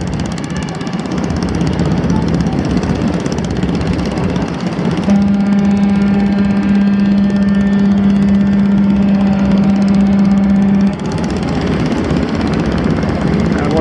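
Container ship Maersk Wiesbaden sounds one long, steady horn blast of about six seconds, deep and loud over river and wind rumble while turning on the Yangon River.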